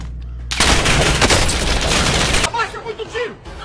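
A dense burst of automatic gunfire in a video game roars loud and close for about two seconds, then cuts off into softer game sounds.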